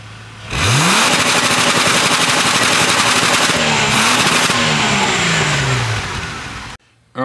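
A V6 Ecotec engine with stock cats, full exhaust and muffler, recorded from the rear, revs up and bangs hard against the rev limiter in a loud, sustained, stuttering roar before cutting off abruptly.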